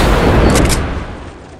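Gunfire in Fortnite, a loud close burst of rapid shots that rings out and slowly fades, with no talk over it.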